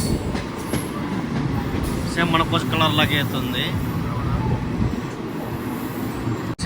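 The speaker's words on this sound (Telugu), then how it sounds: "ట్రైన్ వచ్చేసి మనకు Howrah AC super fast express train" A Howrah AC superfast express train rumbles and clatters close by as it arrives at a station, with a brief metallic squeal, while someone talks over the rolling noise.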